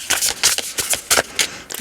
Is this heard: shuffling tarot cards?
yes